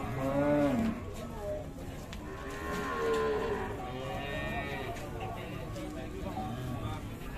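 Simmental cow, dark red with white head, legs and tail, lets out loud lowing moos, one near the start and more later, over continuous crowd noise and talking.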